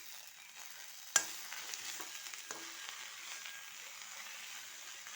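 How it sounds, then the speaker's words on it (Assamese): Taro leaves stirred and fried in oil, a soft, steady sizzle with one sharp utensil knock near the start and a few faint scrapes after it, heard close with no talking. "লৰাই দিছোঁ যাতে এইখিনি সোনকালে তেলতে সিজি যায়"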